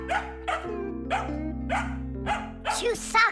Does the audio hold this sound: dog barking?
yes